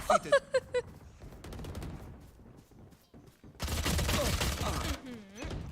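Rapid gunfire from the Valorant game opens with a quick burst of four or five sharp shots, followed by quieter game sounds and a longer noisy stretch, as a player speaks over the action.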